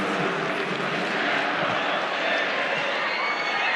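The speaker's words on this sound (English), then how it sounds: "drowned out by the support of the crowd" A loud, dense crowd roars and cheers without pause at a schoolboy rugby union final between St Kentigern College and Auckland Grammar, a continuous wall of noise.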